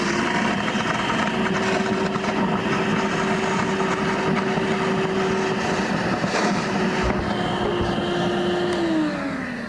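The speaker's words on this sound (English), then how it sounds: "what you hear on that is that's self-cleaning vacuum. It thinks that the filter's still in there and it's trying to clean it up" A shop vacuum used as an extractor for detailing runs its self-cleaning filter cycle, a loud, steady motor drone with a sustained whine that shifts near the end, close and alone.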